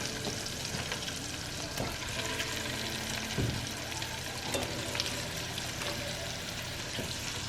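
Shrimp and garlic fry in a pan with a steady, even sizzle and crackle, punctuated by occasional soft clinks and scrapes.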